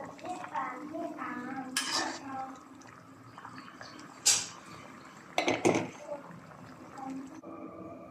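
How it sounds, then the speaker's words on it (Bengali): A metal cooking pot is covered with its lid and fried fish is added, giving several sharp clinks and clatters with quiet stirring and dripping between them, while a voice speaks faintly. "এখন ঢাকনাটা ঢেকে দিব।"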